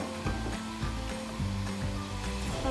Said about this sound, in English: when you hear it sizzling, you just fold it over